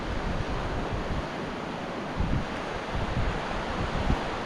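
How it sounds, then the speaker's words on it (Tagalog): Strong sea waves roll and wash on the shore, a continuous broadband roar mixed with gusty wind buffeting the microphone, with a few heavier surges swelling at intervals. "Malakas po ang alon sa panasaan."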